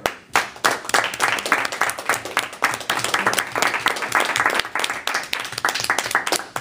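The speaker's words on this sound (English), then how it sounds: "So please give a big round of applause for rising star, Vicki." Loud, close audience applause with dense, uneven clapping continues throughout.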